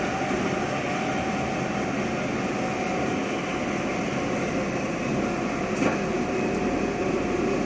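An above-ground train rolls past with a steady, loud broadband rumble and hiss, a continuous wash of rail noise with a brief click or clank partway through.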